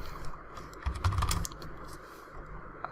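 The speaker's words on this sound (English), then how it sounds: "let's type in live server" Typing on a computer keyboard to search for an extension in a code editor, a brief cluster of close key clicks with no talk.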